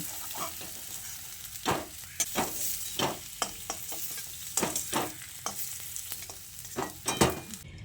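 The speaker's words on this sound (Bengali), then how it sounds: "আলুগুলোকে আমি এরকম একটু লাল লাল করে ভেজে নিয়েছি" Potatoes frying in mustard oil in a wok give a soft, continuous sizzle, broken by close, repeated scraping strokes of a spatula stirring at an uneven rhythm.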